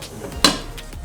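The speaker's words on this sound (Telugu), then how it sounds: "ఇప్పుడు మూత పెట్టి లో ఫ్లేమ్లోనే చక్కగా మగ్గనిద్దాం" A lid goes onto a pan of chicken curry cooking on a low flame: one sharp metallic clink, close and brief, against a quiet background.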